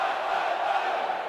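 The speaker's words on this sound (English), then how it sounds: "you can hear the crowds getting behind Simon now as well with the Aussie, Aussie, Aussie chant." A darts crowd at the 2022 Grand Slam of Darts roars an "Aussie Aussie Aussie" chant, a dense, loud, sustained wall of many voices filling the hall without pause.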